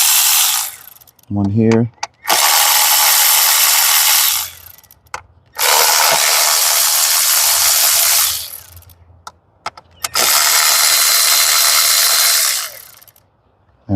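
Long loud bursts of a ratchet wrench clicking as 10 mm bolts come off a Hyundai Sonata during a spark plug and air filter tune-up, three sustained runs separated by short pauses, with a brief spoken remark between them.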